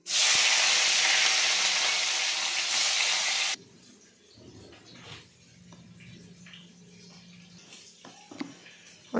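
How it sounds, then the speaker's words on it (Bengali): Dried fish (shutki) frying in oil in a wok with turmeric and salt: a loud, steady, close sizzling hiss for a few seconds, then it cuts down to a quieter bubbling with small clinks and scrapes. "আমি তেল দিয়ে সবার প্রথমে আমি শুটকিগুলো ভেজে নিব।"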